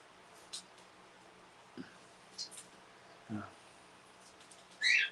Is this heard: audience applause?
no